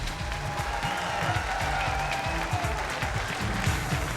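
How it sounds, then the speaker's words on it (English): An audience at the 2003 FLW fishing tournament on Lake Murray applauds. The clapping is dense and sustained, holding at an even level for the whole stretch. "Let's give him a great round of applause to Larry Nixon."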